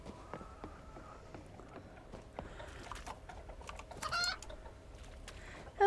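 Video-game chicken in Reka clucking in short, moderately quiet bursts over a soft ambient background, with a louder cackle near the end.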